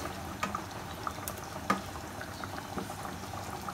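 Fish korma gravy boils in a pan, a soft, faint, continuous bubbling with small pops, heard alone.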